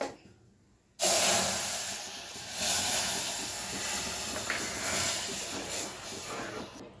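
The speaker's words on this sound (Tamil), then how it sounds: "இப்போது இந்த பாலை போட்டுருங்க" Milk poured into a hot pan of roasted semolina for rava payasam starts a sudden loud hiss and sizzle after a second of quiet, then keeps bubbling and steaming steadily to the end.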